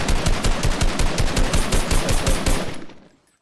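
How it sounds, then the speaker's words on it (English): Sustained automatic gunfire from a Fortnite Chapter 5 weapon, a fast, loud, evenly spaced burst that runs nearly three seconds until the magazine empties, then stops into near silence. "I probably shouldn't have emptied the clip"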